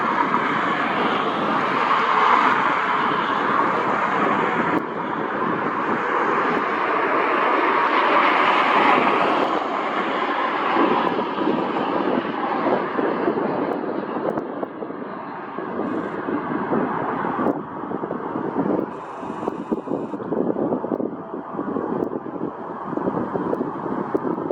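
A United Express airliner inbound from Newark approaches Cleveland Hopkins airport, a broad loud engine roar that holds steady and slowly eases, with wind buffeting the microphone and no talk.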